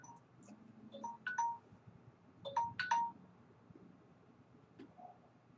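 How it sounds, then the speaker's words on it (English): A telephone ring tone sounds faintly in two short rhythmic bursts while calling a landline, with quiet background noise between rings. "I think I'm going to call the headquarters on their landline."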